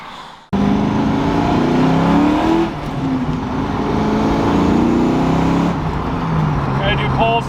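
A Ford F100 truck with a 302 V8 and a slipping clutch pulls hard, its engine droning loudly and climbing in pitch, easing off and then rising again, heard from inside the cab.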